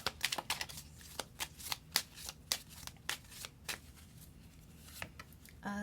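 Tarot cards are shuffled in quick riffling bursts, close and crisp, with a rapid cluster at first and then spaced snaps, alone in a quiet room.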